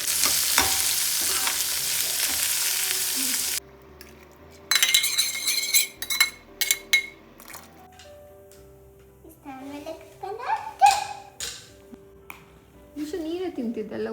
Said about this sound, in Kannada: ಒಗ್ಗರಣೆಗೆ 1 ಈರುಳ್ಳಿ ಹಾಕಿದ್ದೀನಿ,